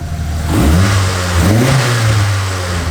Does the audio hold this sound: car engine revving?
yes